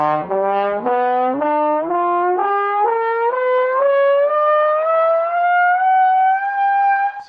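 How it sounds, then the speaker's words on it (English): Horn tone transposed down to 100 hertz, heard as a buzzy sustained brass-like note stepping upward in short legato steps, then gliding steadily higher, loud and alone. "here's a horn, that same horn, transposed down to the 100 hertz"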